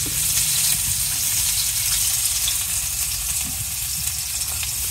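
Onions sizzling in a hot pan, loud and close, a dense, steady crackle and hiss that continues unbroken, with no talking.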